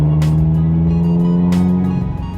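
A loud, droning car exhaust fills the cabin, a steady low engine note with a couple of brief rising surges, slightly fading at the end.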